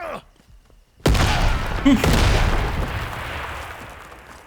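A grenade goes off in the first-person shooter Atomfall, a sudden loud blast after a near-silent lull, followed by a rumbling, crackling tail that slowly fades.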